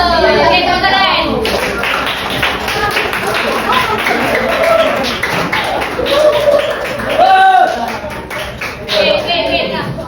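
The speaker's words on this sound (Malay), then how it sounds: "tepuk tangan" A Form 1 class in a classroom lesson claps their hands in a loose, irregular burst, mixed with children's voices talking over it.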